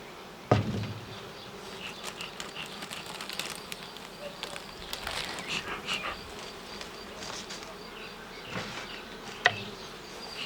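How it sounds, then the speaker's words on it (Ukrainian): Honey bees buzz in a dense, continuous hum close by inside a hive box, with occasional knocks and wooden clunks from handling the hive. "у верхньому корпусі є присутні бджоли"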